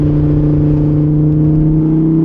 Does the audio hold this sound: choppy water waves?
no